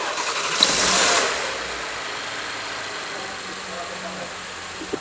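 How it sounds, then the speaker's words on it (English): A car with a stock turbocharged engine and a long exhaust starts up close, a brief loud burst as it catches, then settles into a steady, low, droning idle. "And just like that, the engine's running."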